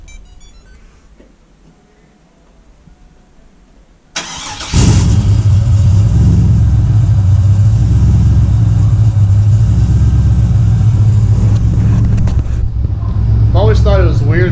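Chevy truck 6.0 LS V8 with new O2 sensors starts after a quiet lead-in, cranking briefly then settling into a loud, steady idle rumble up close, with a voice heard near the end.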